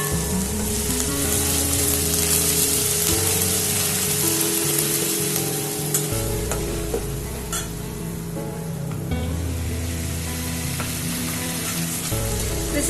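Mango egg gravy with onion juices simmering and sizzling steadily in a pan, a continuous bubbling fry with occasional stirring scrapes, close and fairly loud.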